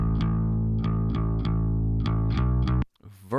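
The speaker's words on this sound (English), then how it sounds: "Combine them together, you get that gritty, distorted signal and the really deep," Distorted bass guitar processed with a split chain, gritty distortion over a deep low end, playing a repeated rhythmic riff of plucked notes before cutting off abruptly.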